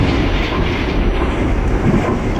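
A New York City subway train in the OpenBVE simulator, running on the Astoria line: a loud, steady rumble of wheels and motors with faint rail clatter, close and continuous and with no talk over it.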